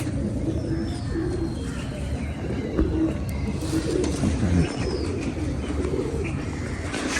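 Pigeons coo steadily in a low, murmuring chorus, several birds close by, with a few faint chirps over a constant background hum.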